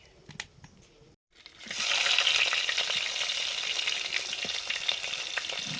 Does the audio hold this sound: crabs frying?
yes